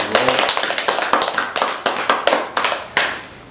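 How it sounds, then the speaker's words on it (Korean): An audience claps together at a Buddhist service, a short burst of quick, sharp hand claps in a steady rhythm, close and distinct, fading out at the end. "자, 박수 한번 치고."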